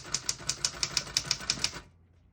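Keys strike on a 1954 Underwood Leader portable typewriter set to single spacing: about eleven crisp, evenly paced clacks up close, then a quiet stop.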